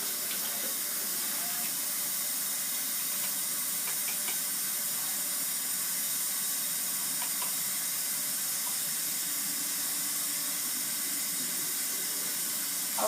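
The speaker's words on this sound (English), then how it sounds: "I'm just going to wash my hands" A sink tap runs steadily for hands being washed in a clinical room, a continuous hiss of water with faint clinks and bumps.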